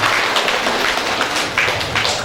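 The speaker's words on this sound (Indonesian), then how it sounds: "Mari kita berikan tepuk tangan yang meriah" Applause from guests at a Batak wedding ceremony, a dense wash of hand claps with brief tapping peaks, steady and fairly loud for just over two seconds.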